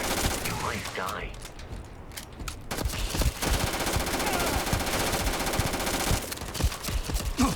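Sustained automatic gunfire in a Starfield gunfight, a few sharp shots early, then a long dense rattling barrage that runs nearly unbroken and loud to the end.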